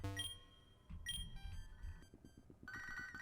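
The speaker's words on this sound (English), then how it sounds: "Phone's ringing again." A phone rings in the Pokemon Infinity video game, faint electronic ringing tones over a low rumbling game soundtrack, short and quiet, with a brighter beeping burst at the end.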